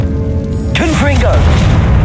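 In Hogwarts Legacy, the Confringo blasting spell sets off a loud booming explosion midway that cuts through a noisy game soundscape, followed by a rumbling, crackling tail, with a voice faintly present.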